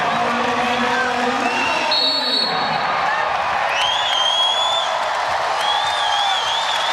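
Crowd noise fills the Stan Sheriff Center during a Hawaii women's volleyball match against CSUN, a steady roar of cheering and whoops with scattered shouts, while a commentator talks over it.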